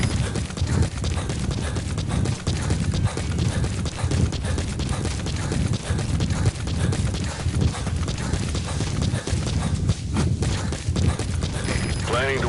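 Horse hooves clop continuously in the Metal Gear Solid V video game, a dense galloping patter under a steady wash of game ambience.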